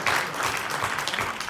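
Audience applause at an international conference, a steady dense wash of clapping from a crowd, continuous and fairly close for the whole moment with no voices over it.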